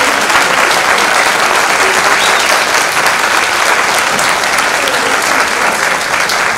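Loud, continuous applause from a concert audience for the conductor of a Turkish classical music choir at an opening concert, a dense close wall of clapping that holds steady throughout.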